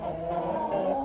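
Breeding hens and a rooster in a coop make soft, continuous clucking and low murmuring calls, close and fairly quiet, with no speech.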